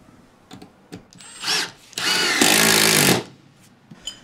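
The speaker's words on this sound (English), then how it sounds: "We'll drill our all thread through the wall." A power drill bores through a wall to take all-thread rod for a temporary star bolt install during demolition, with two loud sustained bursts of whining drilling, the second longer and heavier, between quiet pauses and light handling clicks.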